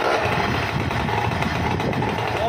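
A loud, close paramotor engine drones steadily at high revs, with a constant buzzing roar and no pauses.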